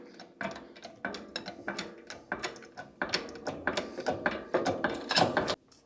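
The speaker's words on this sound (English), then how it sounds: "you will have to press on the inner bearing of the bearing when doing this part of it" Front wheel bearing being pressed into the hub of a Renault 5 GT Turbo, giving a run of close, loud mechanical clicks and ratcheting knocks in uneven bursts, with no talking.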